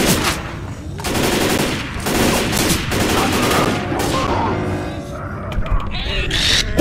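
Rapid automatic gunfire in Left 4 Dead 2, loud dense bursts of machine-gun shots with brief pauses, mixed with players talking and shouting over the action.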